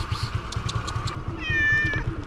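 A cat in Goa lets out a drawn-out meow over a steady low rumble of background noise, close and clear, with a few faint sounds just before it.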